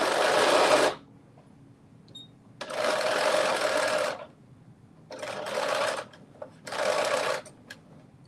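A sewing machine stitches a fabric tie in four close bursts of rapid whirring, each lasting about a second, separated by short pauses.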